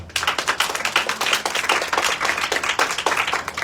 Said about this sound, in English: Please welcome and give a warm round of applause to Mr. J.B. Saliba